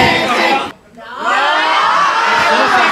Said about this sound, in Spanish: Gritos si creéis que es amor.